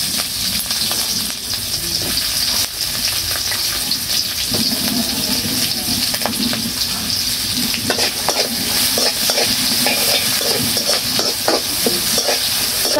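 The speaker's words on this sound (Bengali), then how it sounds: "আমি পেঁয়াজটা হালকা ভাজছি" Sliced onions fry lightly in oil in a wok over a clay stove, a steady close sizzle running throughout with occasional stirring scrapes and clinks.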